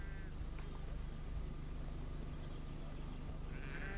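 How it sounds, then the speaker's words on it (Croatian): Sheep bleat in an open field during lambing season, a few distinct calls near the start and end over a steady low rumble of background noise. "I kod ovaca u polju vreme jagnjenja je već stiglo."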